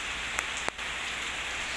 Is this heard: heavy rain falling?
yes